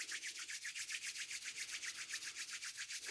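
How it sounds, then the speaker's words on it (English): Palms rubbed briskly together during a seated chair qigong exercise, a close, even swishing in a quick regular back-and-forth rhythm of about a dozen strokes, alone without talk. "Rubbing the hands together."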